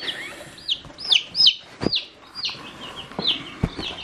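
Small Bielefelder Kennhuhn chicks peep under a heat plate, a string of high, thin chirps at irregular intervals, fairly faint, with a couple of soft knocks among them.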